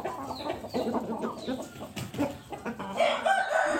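A group of chickens resting in the shade clucks and chatters continuously at close range, with busy overlapping calls and a brief higher crowing note toward the end.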